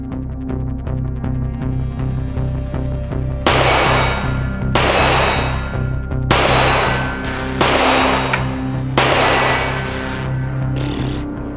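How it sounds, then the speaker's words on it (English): Gunfire from a gun rings out in several sharp bursts, about five loud reports spaced a second or so apart over a steady low background hum, heard up close without talk. "is the first time I'm ever shooting a gun"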